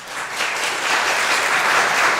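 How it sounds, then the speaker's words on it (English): An audience applauds at a Blount County Commission workshop, a dense, steady wash of clapping that holds at an even level for a couple of seconds with no talk over it. "We're not going to have applause."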